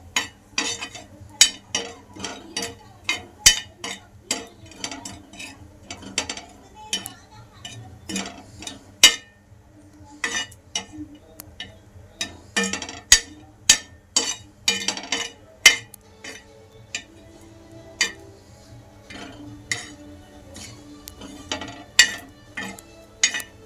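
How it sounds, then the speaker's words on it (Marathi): Coconut roasting in a pan for a spicy bitter gourd curry, heard as steady close clinks and scrapes of a spoon against the metal pan, repeated in an uneven rhythm over a faint background hiss. "तर खोबरं पण आपण जरा आंबळ भाजू."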